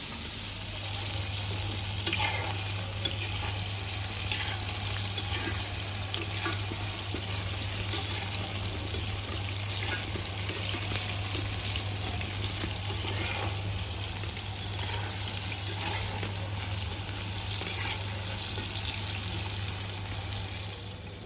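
Chicken popcorn pieces deep frying in oil, a dense, even bubbling hiss that holds steady and close for the whole stretch, with occasional faint clinks and no voices.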